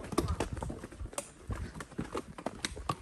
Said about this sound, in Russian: Причем дорога такая вся в камнях, лошадь спотыкается.